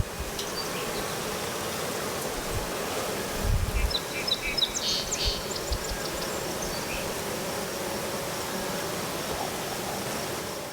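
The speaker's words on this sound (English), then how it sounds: "we got 2 hives, and they are swarming really good in front of the hive here" Honeybees swarm in front of a hive in a garden with two hives, giving a constant, close, dense buzzing hum that stays steady throughout, with a few faint chirps in the background.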